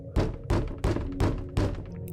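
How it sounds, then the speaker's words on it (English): Four heavy, resonant thuds strike a wooden door at a steady pace, each a loud low thump as the door is battered until it gives way, heard close with no voices. "The door gave in with a loud thud."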